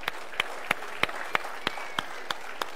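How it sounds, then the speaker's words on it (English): Steady, evenly spaced claps roughly three per second ring out clearly in a church service as the congregation applauds families, with no talking over them. "Let's give these families a round of applause here today."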